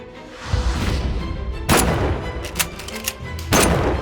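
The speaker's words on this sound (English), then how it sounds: "Lee Harvey Oswald fires 3 bullets in quick succession" Three loud gunshots fired in quick succession in Dallas in 1963, each a sharp blast with a ringing tail, spaced roughly a second apart, alone and close.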